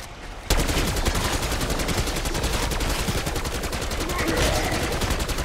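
Rapid automatic gunfire from Black Ops 6 Zombies starts abruptly and keeps going as a loud, close, evenly spaced stream of shots, with some game noise mixed in beneath it.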